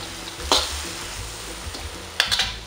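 Bean sprouts stir-fried in a pan with a little soy sauce, stirred with a few scraping clinks of utensil against metal over a low, steady background sizzle.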